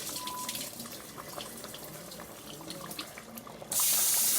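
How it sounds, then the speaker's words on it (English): Rice is rubbed by hand in cold water in a sink, with soft close sloshing and splashing, ending in a louder rush of tap water. "You want to wash it in cold water, okay? Take out all that starch."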